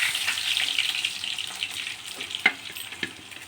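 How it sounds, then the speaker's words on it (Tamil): Sweet potato slices, cut thin with the skin left on and rubbed with salt, fry in hot oil with a steady bright sizzle, broken by a couple of sharper pops and spatters. "இந்த மாதிரி ஸ்வீட் பொட்டேட்டோ கூட இந்த மாதிரி எண்ணெயில் உப்பு தடவி எண்ணெயில் பொரித்து எடுத்துடுங்க"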